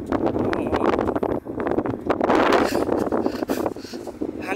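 Hot wind gusting steadily against the microphone along a sun-baked street beside a wall, a rough continuous rumble and rustle that swells and dips without letup.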